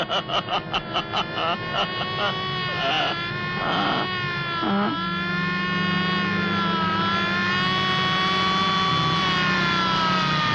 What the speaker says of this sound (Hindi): ये सायरन है, ये कर रही है पुलिस हवा से बातें